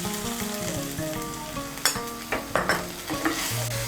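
Spice paste for Bengali doi echor added to a hot oily pan and stirred, a continuous crackling sizzle broken by several sharp scrapes and clanks of the spatula against the pan.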